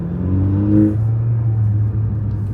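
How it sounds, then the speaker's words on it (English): Car engine revving with a deep exhaust note, a close, loud low growl that rises in pitch, drops briefly and then settles into a steady rumble, with no talk. "And you get that exhaust note still."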